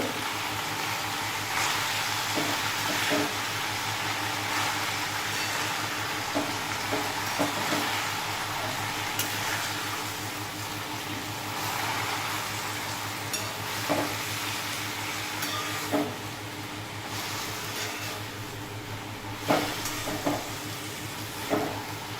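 Tandulja leaf vegetable fries in a pan while being stirred, a steady close sizzle and hiss with occasional scraping and clinking from the stirring utensil, no voices.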